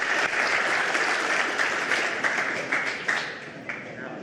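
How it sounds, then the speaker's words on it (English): An audience at a security conference talk on improv and social engineering gives a steady round of applause, dense clapping from a crowd that gradually fades out. "Give him a round of applause."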